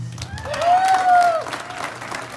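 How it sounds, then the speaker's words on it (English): A rally crowd at a university education event applauds the students, a steady clapping wash with a brief whistle-like tone sliding across the middle, loud and continuous throughout. "give a big round of applause to our students"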